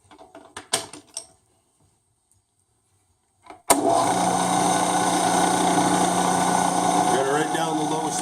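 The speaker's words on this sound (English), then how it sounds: "Go ahead and give her a shot at power tapping." A machine power-tapping a hole at 60 RPM in low range while machining an adapter plate, after a few brief knocks and a near-silent pause, sets off a sudden loud, steady mechanical whir that runs without break to the end.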